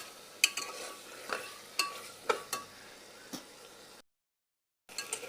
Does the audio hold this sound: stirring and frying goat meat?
yes